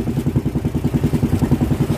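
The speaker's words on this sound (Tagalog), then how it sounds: "Subukan pa rin pandar ni ng aking pamangkin yung makina kung mapapandar" A small boat's engine chugs loudly and close by in a fast, even rhythm while someone tries to start it out on the sea, with a clattering mechanical edge and no voices.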